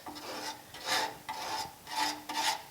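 Body filler being spread by hand over pitted metal on a 1950 Chevy truck makes rhythmic rasping strokes, roughly two per second, close and quiet with no talking.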